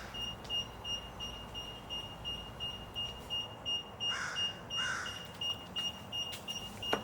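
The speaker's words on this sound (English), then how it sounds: "That beeping is designed to give you notification that you've made it inside of the garage and that you're clear." An Infinity Shields garage door sensor gives a steady, thin electronic beep that repeats at a regular pace. It is faint against a quiet hum in a garage.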